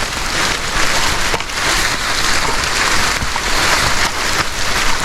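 Heavy rain pours down steadily during a trek to Bandaje waterfall, a dense, continuous hiss close to the microphone with no pauses.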